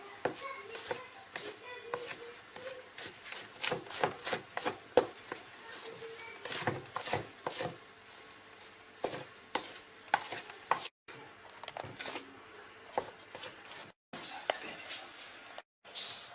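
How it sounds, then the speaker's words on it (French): Italian meringue being folded into macaron batter with a spatula, giving a steady run of soft, close scraping taps and clicks against the bowl, with quiet pauses near the end. "Rajoutez la meringue italienne et mélangez avec une spatule."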